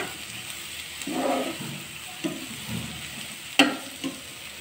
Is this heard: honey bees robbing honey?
no